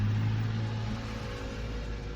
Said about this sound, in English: It's like one of those mini pickup trucks that you use for landscaping